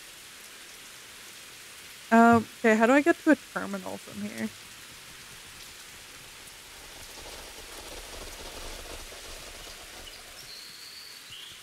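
Rain falls throughout an indie horror video game, a constant wash of drops with faint rumbles, while a person speaks briefly over it early on before the downpour continues alone.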